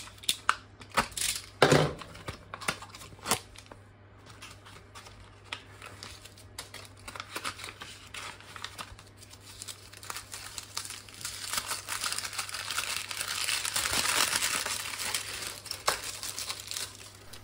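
Cardboard box and bubble wrap crinkle and rustle as a custom PCB is unpacked, with scattered sharp crackles early on and a denser stretch of crumpling near the end, fairly quiet overall.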